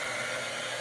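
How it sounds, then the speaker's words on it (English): A craft heat tool blows a steady, even rush of air over strings of hot glue on a project, close and moderately loud, with no talking. "Just use the heat tool, even your hair dryer. Just put it on over your project,"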